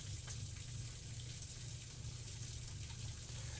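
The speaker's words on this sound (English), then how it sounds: "There goes the water." Water drains steadily through household pipes piped out to the front of a house, making a continuous, fairly loud rushing gush with no break.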